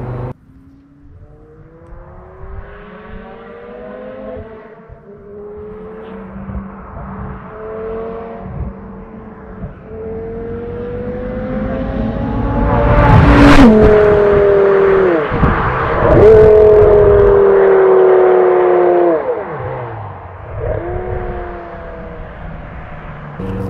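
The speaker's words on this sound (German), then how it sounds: "Das Auto hat ja eine wahnsinnige Beschleunigung, aber entsprechend auch einen Wahnsinns-Sound." A 2006 Porsche Carrera GT engine revs up and accelerates, pitch climbing in repeated surges, peaking loud in the middle before easing back down.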